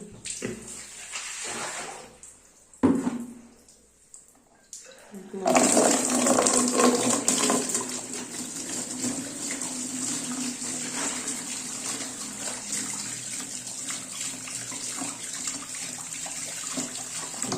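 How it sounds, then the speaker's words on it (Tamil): Water poured out of a container onto the floor or into a drain during a dyeing job, a steady splashing gush that starts abruptly after a brief lull and continues loud and close for over ten seconds. "அப்போ நம்ம இந்த தண்ணி கீழே ஊற்றிக்கலாம்."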